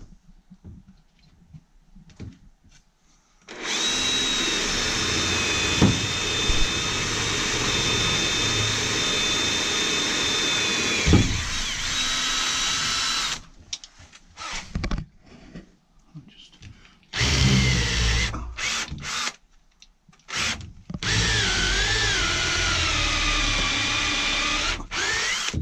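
A power drill bores countersinks into 25 mm thick wooden battens during a narrowboat fit-out, whirring loudly in several long bursts separated by short quiet gaps, very close.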